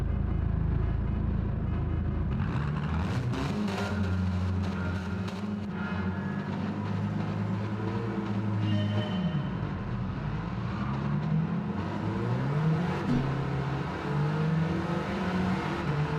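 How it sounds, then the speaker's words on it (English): A supercharged race car in Gran Turismo 7 revs and accelerates during an online mini race, a continuous engine drone rising and falling in pitch as it winds up through gears, with no talking. "Takes a little while to wind my supercharger up"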